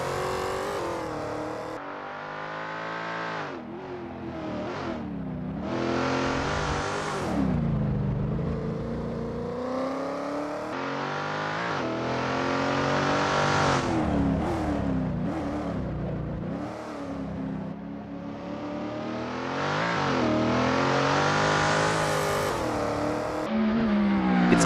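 Race cars warming up on Sonoma Raceway's Nascar circuit in Assetto Corsa make a continuous layered engine roar. Pitch keeps swooping up and down through shifts and passes, with no talk over it.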